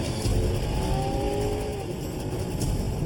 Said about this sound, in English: Trooper Josh Rollo kicks it into high gear and races across Fairbanks.